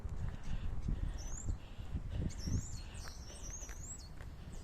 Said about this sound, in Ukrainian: Вже пташки співають.